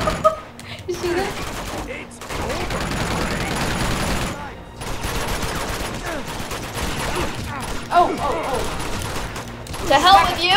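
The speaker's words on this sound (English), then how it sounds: "He's literally shooting at me." Gunfire in the action game Uncharted 2: Among Thieves, dense bursts of shots and booms that carry on almost nonstop, loud and close, with a player's voice speaking over parts of it.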